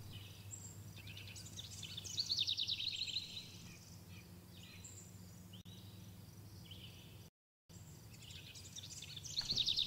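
Ambient birdsong used as a sound effect in a Unity Wordle game, high chirps and trills in short bursts over a faint low hum, with a brief dropout near the end.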